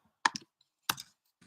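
A few quick clicks on a computer keyboard, two short bursts of keystrokes with a pause between and a faint final tap, close and quiet in an otherwise silent room.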